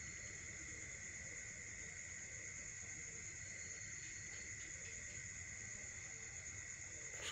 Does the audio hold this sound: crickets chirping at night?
yes